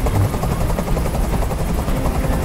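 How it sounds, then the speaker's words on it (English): A loud, steady helicopter hovers close by in the video game Detroit: Become Human, its rotor chopping in a continuous rapid pulse. "I can't stand that noise anymore! Tell that helicopter to get out of here!"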